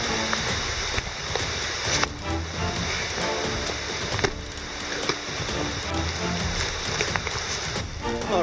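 Heavy rain pours steadily onto a forest trail, a dense, constant hiss of drops on leaves and gear with scattered sharper patters, close and loud, and someone talks over it at times.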